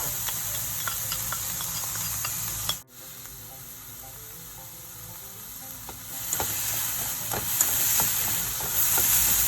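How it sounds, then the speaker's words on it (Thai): Onion and carrot stir-fried in hot oil for Japanese-style egg fried rice: a steady close sizzle with scattered scraping ticks from stirring, a brief dropout just before three seconds, then the frying swells louder again. No one speaks. "เอาหอมหัวใหญ่ลงไปผัดนะคะ ตามด้วยแครอทค่ะ"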